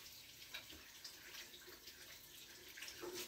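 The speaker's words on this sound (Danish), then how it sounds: "Så tænder vi på vandet." A tap runs steadily for handwashing, a soft continuous splash of water into a sink, faint and close, with no talk over it.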